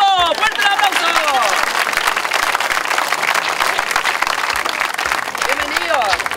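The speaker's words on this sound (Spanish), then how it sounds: "¡Fuerte el aplauso!" Studio audience applauding panelists on a Spanish-language comedy TV show, a loud, dense and sustained clapping that fills the whole stretch, with a voice heard briefly near the start and end.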